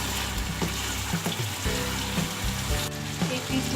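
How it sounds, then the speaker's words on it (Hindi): Tomato, green chilies and ginger fry in a masala for bhuna gosht, a steady close sizzle and crackle that runs throughout with small bubbling pops. "ये सब चीज़ें शामिल करके 2 मिनट भूनना है इसको।"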